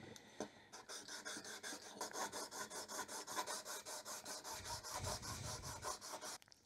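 A new Stanley Bailey hand plane sole is rubbed back and forth on an abrasive flattening surface, giving a steady rhythmic rasping scrape of around twenty close, even strokes with no talk.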